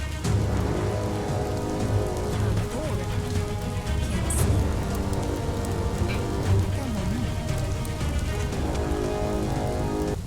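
Steady rain patters continuously on a surface in the video game Biomutant, with a soft musical score underneath and a voice speaking over it.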